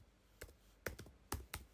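Computer keyboard typing: a few quiet, sharp key clicks in small clusters, spaced irregularly over a low background hum.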